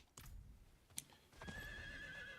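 In the fantasy game Diablo IV, a horse snorts and clops with a sharp hoof click, then lets out a long, clear whinny over soft ambient game sound, fairly quiet overall.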